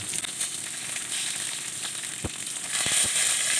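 Fish fries in hot oil with a steady close sizzle. Sharp spitting pops and crackles break through it, growing busier toward the end.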